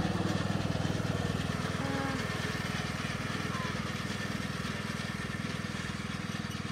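A tractor engine runs steadily nearby with a constant, rapid throbbing idle at even loudness throughout.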